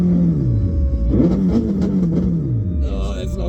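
Hayabusa-engined Toyota Corolla idling, its tone wavering and sliding downward as the idle hunts, with a steady close engine drone throughout and a brief higher rasp near the end.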